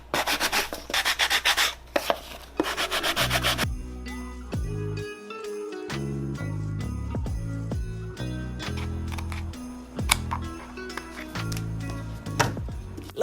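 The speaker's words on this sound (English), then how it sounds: "I'm just gonna take a sanding block and sand the edges down a little bit" Sanding block rubbed along the edges of a Dollar Tree craft piece: a burst of fast scratchy strokes at first, then quieter rubbing and taps over background music.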